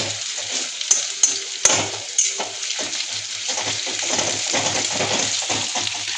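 Onions fry in a pan for a home chicken recipe, a steady crackling sizzle with a few sharp utensil clicks near the start and no voices.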